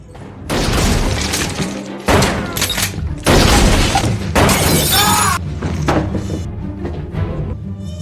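Glass shattering under gunfire in a film shootout, several loud crashing bursts of breaking glass mixed with booming shots and debris over several seconds, up close with no talking.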